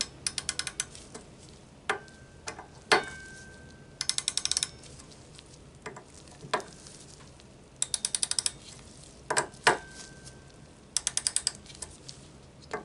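A torque wrench ratchets in short rapid bursts of clicks while tightening the front action screws on a rifle chassis, close and crisp, with scattered single clicks and small metallic handling noises between bursts.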